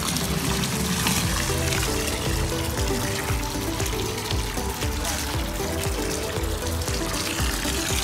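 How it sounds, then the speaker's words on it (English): Water pouring steadily from a hose or tap to fill a backyard pool, a continuous loud splashing rush with no pauses, with family voices faintly audible underneath. "My baby is helping Mommy fill the pool."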